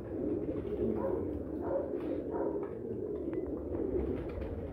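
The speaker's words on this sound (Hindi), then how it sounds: "एक और गोल्डन कबूतर हमारे सामने है" A golden pigeon coos in soft, low, repeated throaty calls close by, over a murmuring background.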